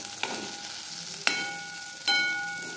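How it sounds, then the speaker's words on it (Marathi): Stuffed okra and chilies frying in oil in a pan, a steady close sizzle with a few sharp clicks of stirring over it, no voices. "आपली मिरची आता छानपैकी मस्त फ्राय झाली आहे. हे बघा, मस्त तेल सुटलंय"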